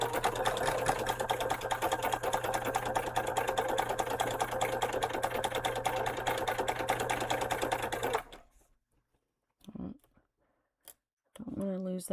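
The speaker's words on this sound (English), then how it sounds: "you can just finger press this and hold it down while you sew" A sewing machine stitches a cotton seam in a steady, rapid mechanical whir for about eight seconds, close and even, then stops, leaving a couple of short hand-cranked stitching bursts and quiet handling noises.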